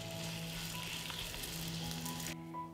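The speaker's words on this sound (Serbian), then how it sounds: "Na isti način ispržit ću ostalu smesu." Potato and zucchini patties fry in a pan with a loud, dense, continuous sizzle heard up close, cutting off sharply near the end, with no voices.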